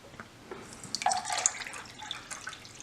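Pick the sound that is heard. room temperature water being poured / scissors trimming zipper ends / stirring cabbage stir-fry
room temperature water being poured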